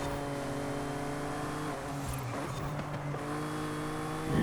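Jaguar XJ220 supercar in a racing video game accelerating hard to overtake, its engine revving up steadily, briefly dropping at a gear change, then climbing again, loud and close with no talk.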